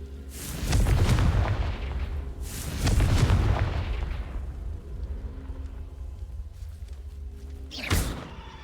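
A Confringo blasting spell explodes in Hogwarts Legacy, giving two heavy booming blasts with rumbling tails a couple of seconds apart. A sharper, smaller burst follows later, with no talk over the blasts.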